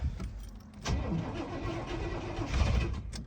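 An abandoned 1989 GMC Suburban 4x4, left sitting for 18 years, cranks over as someone tries to start it, a continuous churning starter-and-engine drone with rising surges, close and fairly loud, with no voices.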